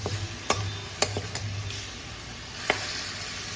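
Chicken leg pieces frying in a little oil, a steady close sizzle broken by a few sharp crackles and pops.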